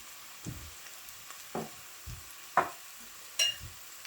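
Carrots go into a pan for a vegetable stir-fry, a faint, quiet sizzle under a few separate clinks and scrapes of utensils against the pan.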